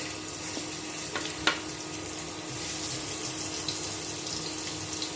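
Ginger sizzling in hot cooking oil in a heated pot, a steady frying hiss with a few brief clicks and spatters, close and continuous without talk.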